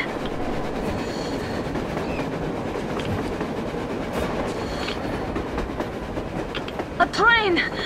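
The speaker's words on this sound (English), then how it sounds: "A train! A damn train on the surface!" Train rolling across the snowy surface in the video game Metro: Exodus, a steady broadband rumble in a blizzard-like wash, with a rising metallic wheel squeal near the end.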